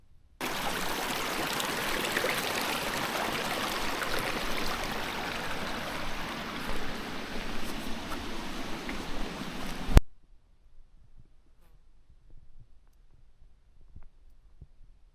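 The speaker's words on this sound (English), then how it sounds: "but I think it's like a water pump or something." A steady, even whirring rush like a running water pump on a hiking trail on Skye, loud and unbroken for about ten seconds, then cutting off abruptly to near silence.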